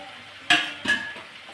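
Spices being stirred into a cooking pot with a spoon: two distinct clinking scrapes against the metal pot over a faint background hiss, close by, with no voices.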